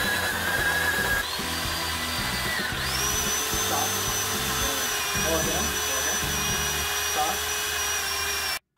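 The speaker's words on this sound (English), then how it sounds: "So we are going to be drilling right over there." A power drill whines steadily at high pitch, shifting tone partway through, over a busy mechanical rumble with faint voices in the background, during a steering install on a Jeep TJ.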